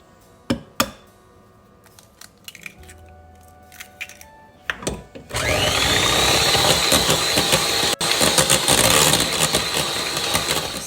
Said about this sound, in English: with our mixer, we're gonna blend everything together